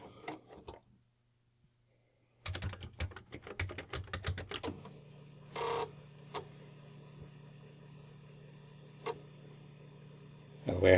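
Commodore 1541 floppy disk drive on a C64 booting Ultima 6, a burst of rapid mechanical clattering and ticking, then a steady low whirring hum of the endlessly spinning disk with occasional clicks.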